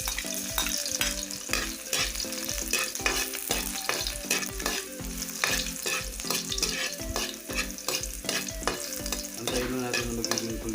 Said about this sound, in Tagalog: magigisa na po tayo ng ating bawang at saka sibuyas.